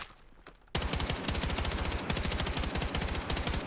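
Rapid short bursts of rifle fire in Battlefield 6, loud and close, crackling shots in quick clusters that follow a brief quiet lead-in.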